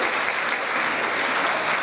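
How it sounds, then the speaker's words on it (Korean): Audience applause at an annual gala dinner fills the room, a steady dense wash of many hands clapping at moderate level without a break. "박수 주세요."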